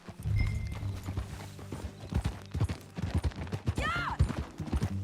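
Horse hooves clip-clop in a quick steady rhythm while riding in Red Dead Redemption 2, close and clear, with a brief whinny-like call partway through.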